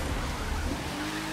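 A car engine at full throttle in a racing video game, a dense, continuous roar held steady and loud for a short burst with no breaks.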